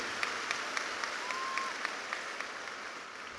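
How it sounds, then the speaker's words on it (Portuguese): Audience applause at a conference honoring a guest bishop, a steady dense wash of clapping throughout, moderately distant and sustained without talk. "Let's clap for Bishop T.D."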